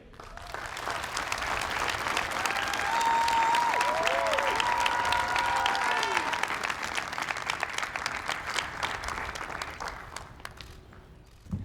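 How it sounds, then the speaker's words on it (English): Enthusiastic applause from a commencement ceremony crowd at Carnegie Mellon University swells to a loud, sustained roar, with scattered cheers and whistles, then gradually tapers off toward the end. "Please join me in an enthusiastic round of applause for class of 2021's graduate student speaker, Frank Avino."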